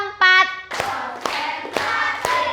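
A short voiced tone is followed by four sharp hand claps in a classroom clapping pattern, evenly spaced about half a second apart, loud and close.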